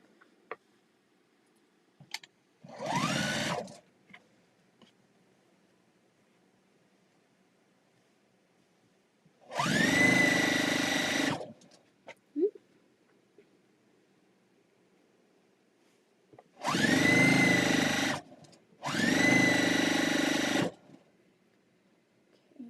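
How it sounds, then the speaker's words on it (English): A sewing machine stitches in four separate bursts, each lasting one to two seconds, the last two close together, with quiet gaps between them and no speech. "We are sewing and sewing and sewing and sewing."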